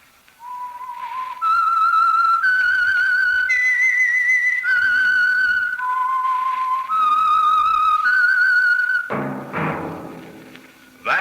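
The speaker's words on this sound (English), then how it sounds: "That whistle is your signal for the Signal Oil program, The Whistler." A lone whistler performs the eerie theme melody of The Whistler, a 1946 radio drama, with a clear, close, sustained sequence of pitched notes rising and falling, ending with a brief thump.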